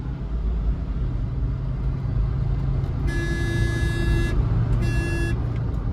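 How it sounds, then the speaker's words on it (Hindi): A SsangYong Rexton makes a 0 to 100 launch, its engine rumbling loudly and steadily up close inside the cabin while two bright beeping chimes sound partway through. "अब अपन करते हैं इसका 0 to 100 सेंगियोन रेक्सटन, देखते कितनी सेकंड में 0 to 100 जाती है।"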